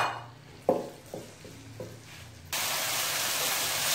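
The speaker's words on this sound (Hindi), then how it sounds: "ये मैंने एक पैन में फोर टेबलस्पून ऑयल लिया और उसमें ही अपना चिकन डाल दिया" Chicken drops into four tablespoons of hot oil in a pan, giving a few sharp clinks and spatters, then a loud, steady hiss of frying that fills the rest.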